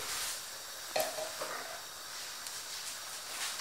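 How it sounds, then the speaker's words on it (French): Water is poured over browned lamb pieces in a cooking pot for an apricot and walnut tagine, giving a steady close hiss and sizzle with a brief louder burst of steam near the start. "Après coloration de la viande, je vais arroser avec l'équivalent d'un demi-litre d'eau."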